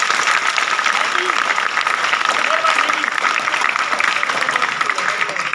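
Steady crowd applause fills the whole stretch, dense and fairly loud, with a few brief voices faintly audible underneath.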